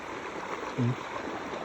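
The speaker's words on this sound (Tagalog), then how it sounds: "Sa ilog." A river stream flows with a steady, close wash of water, a brief low tonal blip partway through and no one speaking.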